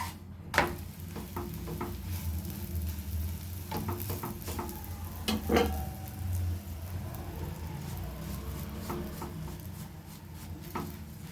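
A kollu (horse gram) chapati cooks in a little oil on a pan, giving a soft, steady sizzle broken by scattered clicks and scraping knocks as it is turned and pressed.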